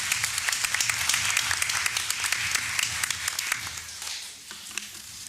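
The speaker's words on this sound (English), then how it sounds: "Let's give them another round of applause." A round of applause for school volunteers and education partners at a board meeting, many hands clapping in a dense patter with sharper individual claps standing out, tapering slightly near the end.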